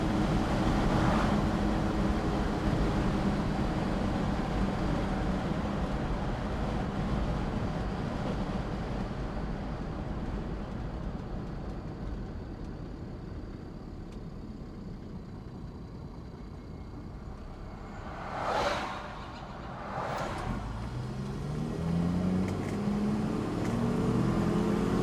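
A 1967 Ford Mustang with a newly installed timing chain cruises on the road, a steady muffled drone of engine and road noise heard from inside, with a couple of brief whooshing sweeps near the end.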